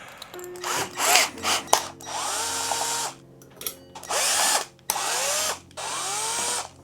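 A power driver spins out triangular safety screws from the back cover of a fan in several separate whirring bursts of varying pitch, close by, with short pauses and clicks between them.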